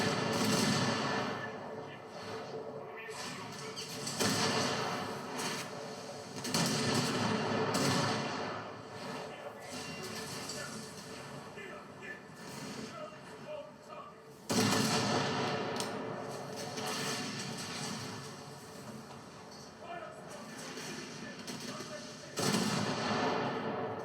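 Naval gunfire in a warship game featuring the heavy cruiser USS Newport News (CA-148): repeated booming heavy-gun salvos and thuds with rumbling between shots, while someone talks throughout.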